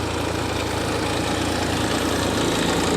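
A tractor engine idles with a steady, low, rumbling chug, close and loud, running continuously without change.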